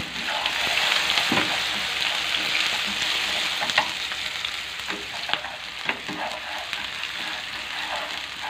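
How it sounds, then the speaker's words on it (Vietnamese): Shallots, garlic and lemongrass fry in bubbling caramel sauce for braised pork, giving a steady close sizzle broken by scattered clicks and scrapes of stirring. "Đây, mình sẽ phi thơm lên."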